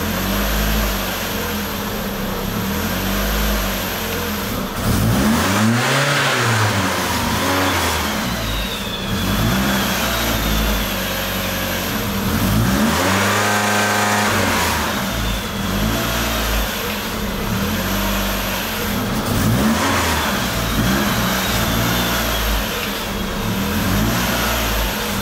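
Toyota Celica ST205 GT4 turbo engine with BEAMS swap revving hard in repeated swells, rising and falling over a steady idle, close and loud with no talk.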